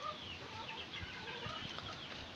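Faint clucks and low murmurs from a small flock of one rooster and two hens in a coop, mixed with occasional wing flutters over a steady noisy background.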